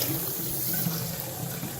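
Water runs steadily from a bathroom tap in a continuous, even hissing splash, close and unbroken, with no talking.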